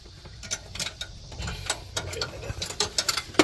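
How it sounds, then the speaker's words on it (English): A wrench loosening the fan bolts on the front of an engine, with irregular close ratcheting ticks and clicks of varying loudness throughout, no talking. "Remove the 2 bolts right here for the fan. Loosen it."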